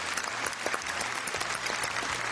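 Steady applause from a game show studio audience, dense clapping sustained for a couple of seconds without pause.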